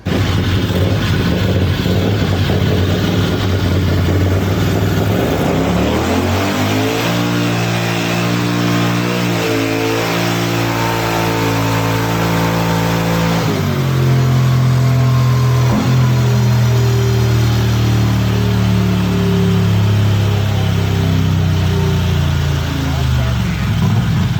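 A turbocharged Predator 670 engine runs on a dyno, a loud continuous drone whose pitch climbs, holds, then drops and settles in steps, with people talking faintly underneath.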